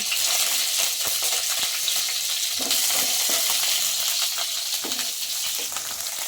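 Ingredients fry in a pan with a dense, bright hiss of hot oil, close and constant, with occasional clinks and stirring scrapes.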